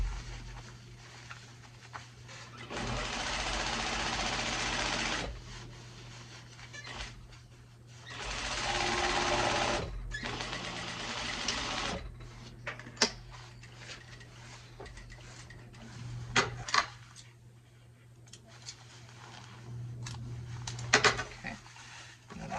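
A sewing machine stitches the edge of a satin hair bonnet in several separate bursts of fast, steady whirring, close and moderately loud, with quiet handling clicks and rustles between runs.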